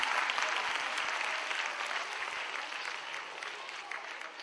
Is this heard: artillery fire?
no